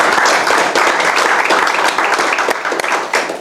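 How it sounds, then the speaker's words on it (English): A board meeting audience breaks into a dense round of applause, many hands clapping close and loud for the full stretch, with a few voices mixed in. "Yeah, round of applause"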